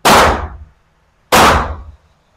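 Two loud shotgun blasts from a Mossberg 590 or Maverick 88 pump shotgun at an outdoor range, each a sharp close boom with a short decaying tail, roughly a second and a half apart with no talk.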